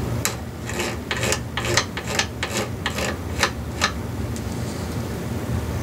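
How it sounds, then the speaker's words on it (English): A hand scraper rasps across a guitar's finish in a run of about a dozen short, evenly spaced scraping strokes, close and fairly loud, then slows and fades toward the end. "For heavier scraping, use the scraper itself."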